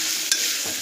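Turmeric fries in a hot pan, a brief bright sizzle with one quick stir scrape, close and fairly loud with no voices.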